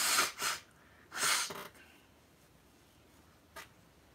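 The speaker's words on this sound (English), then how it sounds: "I'm going to blow my nose." A few forceful nose blows in quick bursts, two strong blasts then a shorter one, followed by quiet and a faint sniff.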